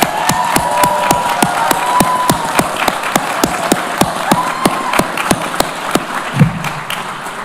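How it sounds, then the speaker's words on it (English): An audience applauds graduates at a University of Virginia School of Continuing and Professional Studies ceremony. One nearby pair of hands claps sharply and steadily over a fuller crowd of clapping and scattered cheers. "Can we have one more round of applause for our graduates?"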